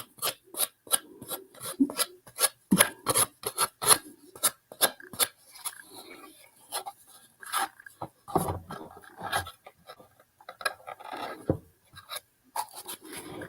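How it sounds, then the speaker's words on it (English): Hand sanding along the edge of decoupaged paper, a dense run of short, rapid rasping strokes close by, steady and fairly loud with brief gaps between bursts. "And when I sand, I'm trying to sand straight so it just chops it off the edge."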